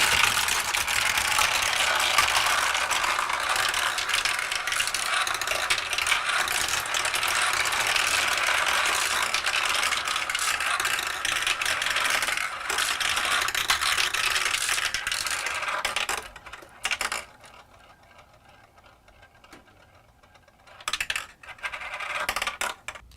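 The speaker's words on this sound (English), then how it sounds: "Let's see how many marbles make it from the pivot trampoline into the roto catcher." Marbles clatter and rattle through a plastic Q-Ba-Maze stunt set marble run, a dense, continuous stream of clicking and tumbling that thins out near the end into sparse bursts and brief quiet.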